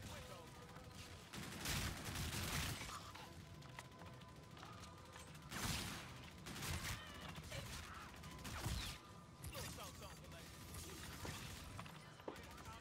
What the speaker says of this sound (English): I have a mod of this pistol which makes it automatic.